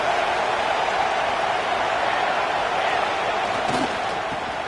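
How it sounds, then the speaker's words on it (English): Stadium crowd noise in a college football video game, a dense continuous roar of many voices holding steady at a loud level, with a brief thump near the end. "listen to this crowd noise. This stadium is vibrating."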